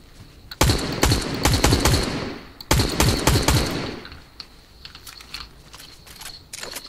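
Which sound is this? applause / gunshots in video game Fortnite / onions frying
gunshots in video game Fortnite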